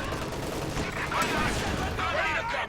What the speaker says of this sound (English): M1 anti-tank gun fires on the Panther, but fails to penetrate